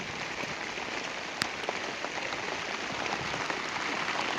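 Steady rain pours down along a monsoon journey near Mahad, a dense, even hiss of falling drops with a few sharper splats, continuous and fairly close, with no voices.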